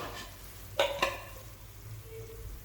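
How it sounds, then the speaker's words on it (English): A spoon stirs kebab karahi in a pan, two quick scraping knocks against the metal over a soft background sizzle. "and I'm gonna stir it."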